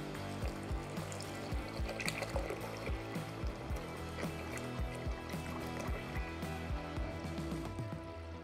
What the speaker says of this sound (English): I've got 1 gallon of cold water that we're going to pour in here.